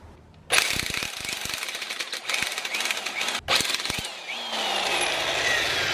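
An impact wrench hammers loose the top bolt of a suspension strut, a 19 mm nut, in loud rattling bursts, pausing briefly and then firing again before running on steadily.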